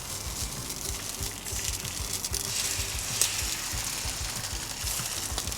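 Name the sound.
egg frying on a Weber Slate griddle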